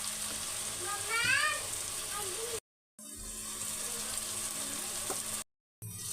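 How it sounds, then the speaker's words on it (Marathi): Lasuni methi, fenugreek leaves with garlic, sizzles in a pan with coriander powder, turmeric, garam masala and onion-garlic masala. The hiss is steady and close, a brief voice sounds early on, and the sound cuts to silence twice. "आता मी ह्याला चांगलं परतून घेणार आहे."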